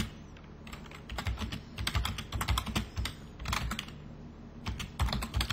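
HTML is typed on a computer keyboard in bursts of rapid, crisp key clicks up close, with short pauses between runs and no voices.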